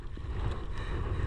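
Wind buffets a small fishing boat out at sea, a low steady rush with faint water slaps around the hull, fairly quiet and without voices.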